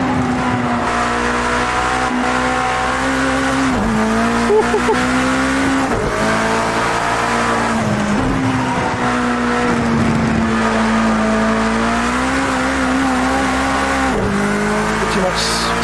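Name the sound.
race car accelerating with tyres spinning in a racing video game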